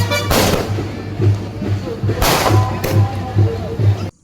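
Festival firecrackers burst loudly and close, a few sharp bangs followed by a rapid run of cracking pops echoing outdoors, with people talking and shouting around them.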